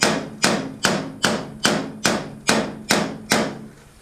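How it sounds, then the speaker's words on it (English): Hammer strikes working dents out of an aluminum canoe hull, eight light, evenly spaced blows about half a second apart, each ringing briefly before the next, with no talking. "You don't want to go real heavy with it. Don't want to leave any hammer marks in it."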